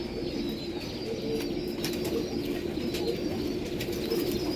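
A flock of pigeons coos continuously up close, with occasional sharp clicks and brief wing flutters mixed in.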